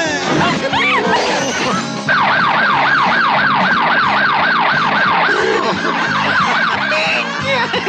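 Police car siren from a comedy scene set in New York, its wailing tone rising and falling loudly over a busy, cluttered mix of other sounds.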